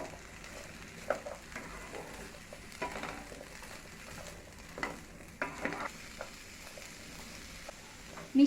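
Sweet pumpkin pieces are stirred through a low-oil dried shrimp curry frying in a pan, with soft intermittent scraping and a quiet, gentle sizzle beneath.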